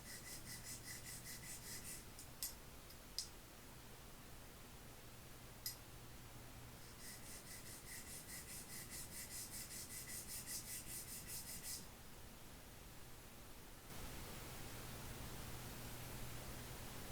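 A steady, hissing rub of sanding a guitar nut for a Squier Bullet Stratocaster continues throughout, with a few faint clicks and small shifts in texture.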